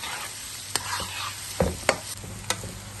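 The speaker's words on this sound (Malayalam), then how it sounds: "ഇത് ഒരു ലൈറ്റ് ഗോൾഡൻ ബ്രൗൺ ആകുന്ന വരെ ഒന്ന് വഴറ്റിയെടുക്കണം." Onion, ginger and garlic sautéing in a pan for mushroom masala, a soft steady sizzle broken by several sharp scrapes and taps of a spoon stirring, close up with no talk.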